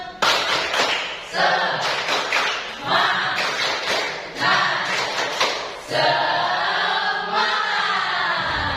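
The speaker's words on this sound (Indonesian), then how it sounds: "Kita peragakan dengan semangat. Tepuk semangat." A group performs the 'tepuk semangat' rhythmic clap chant, bursts of clapping in patterned sets with pauses between, loud and close, with voices chanting along.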